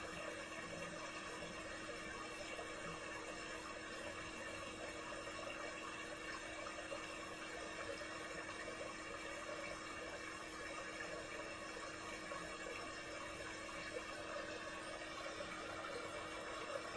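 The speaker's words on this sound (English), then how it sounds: "Doesn't the sound of moving water add so much to this garden?" Water tumbling steadily over a naturally built garden pond waterfall, a continuous close wash of splashing and rushing flow with no pauses and no voices.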